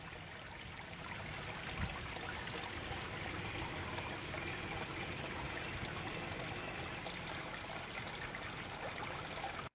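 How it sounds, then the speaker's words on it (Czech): A small waterfall beside a house terrace babbles steadily and close by, a dense, even rush of falling and splashing water that runs unbroken and alone. "je terasa, u které vám zurčí vodopád"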